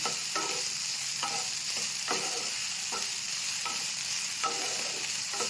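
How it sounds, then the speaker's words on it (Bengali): Sabudana (sago pearls) frying in oil with steady sizzling, broken by a series of regular scraping stirs of a spatula, close and continuous with no talk. "দেখুন সাবুদানাটা ফ্রাই আমার হয়ে গেছে।"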